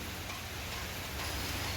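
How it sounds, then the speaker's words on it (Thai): Steady rain falling all day during a three-day storm, a dense continuous hiss with soft patter, close and even, with no voices. "ฝนตกทั้งวันเลยค่ะ"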